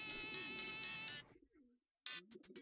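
Pigeons cooing in the video game Hiveswap, a dense burst of bird calls over a bright musical tone that cuts off abruptly, followed by brief silence and another short flurry of cooing.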